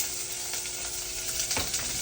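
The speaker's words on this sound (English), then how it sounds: "I'm gonna put the rest of the onions and garlic" Onions and garlic fry in bacon grease, a dense, bright, continuous sizzle heard up close and fairly loud, with a brief stir or scrape near the end and no voices.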